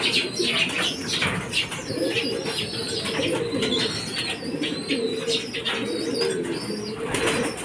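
Racing pigeons at the loft coo and chirp while wings flutter now and then, a busy, close flock sound that carries on throughout.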